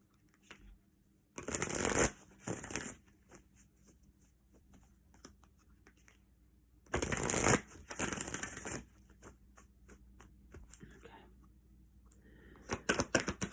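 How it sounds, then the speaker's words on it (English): A deck of fairly new tarot cards is shuffled by hand in close, crisp bursts, two longer riffling runs separated by quiet pauses and a brief final flurry. "So that was at the bottom of the deck, but let me shuffle a little bit."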